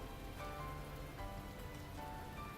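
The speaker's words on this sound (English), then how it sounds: "I hurry to the bridge as the rain grows steadily stronger" Steady rain falling in a riverside scene of the visual novel game The Fruit of Grisaia, a soft continuous patter and hiss with faint tonal music underneath, quiet and even throughout.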